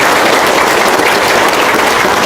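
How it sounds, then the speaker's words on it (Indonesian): A crowd claps loudly at a motivational talk on earning money, a dense, continuous roar of hands filling the short stretch without any voices on top. "Kasih Tepuk tangan dong."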